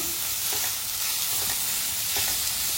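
Jackfruit being fried in ghee in a pan over a low flame, a dense steady sizzle with a few soft scraping stirs, close and even throughout, no talking.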